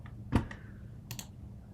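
A few quick keystrokes on a Mac computer keyboard, a shortcut being pressed: one sharper click followed by a couple of lighter taps, close and fairly quiet.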